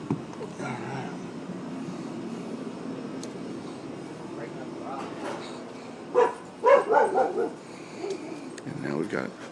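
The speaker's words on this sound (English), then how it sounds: "And here we've got barking." A dog barks several times in a quick burst, fairly near, over a low rumble with people talking before and after.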